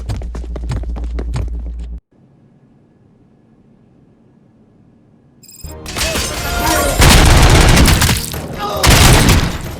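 Heavy gunfire in the Robocop: Rogue City shooter game, quiet at first with a low hum, then a sustained loud barrage of shots and booms with voices calling out over it.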